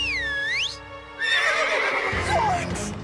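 A cartoon horse whinnies loudly nearby, a high wavering neigh, followed by a second shrill call amid a burst of noisy commotion.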